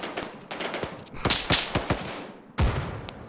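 Gunfire in the video game Arma 3, with a steady run of sharp shots at uneven intervals, a tight cluster in the middle and one heavy, loud blast near the end.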